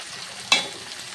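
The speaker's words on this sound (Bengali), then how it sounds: "এখন আমি আলুটাকেও ভালো করে কষিয়ে নেব" Potatoes being sautéed in a pan with ground coriander, cumin, Kashmiri chili and turmeric, a steady soft sizzle with one short sharp scrape or stir partway through; no voices.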